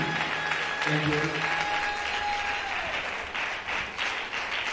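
A church congregation claps to acclaim the prophet, a sustained round of applause under a preacher's voice and a sustained musical tone, fading slightly toward the end.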